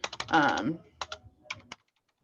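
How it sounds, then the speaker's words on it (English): Keys clatter on a computer keyboard in short clicking bursts. A voice briefly murmurs among them and the sound stops after about two seconds. "I can go in here and I can type in"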